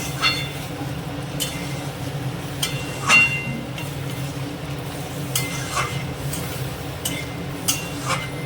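Egg curry being stirred gently in a pan, with soft scraping and light clinks of a utensil against the metal recurring through a low steady background hum, fairly quiet and without talk.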